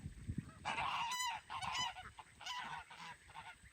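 Several feathered young ducks, past the duckling stage, call in a series of loud honking, goose-like squawks, clustered close together outdoors with short pauses between bursts.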